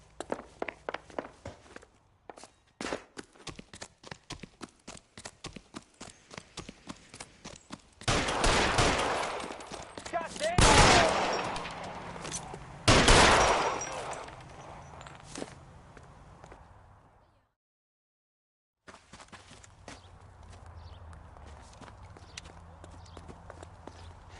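A shootout from the video game L.A. Noire: rapid close shots and heavy bursts of gunfire with footsteps, falling to silence before a low ambient hum.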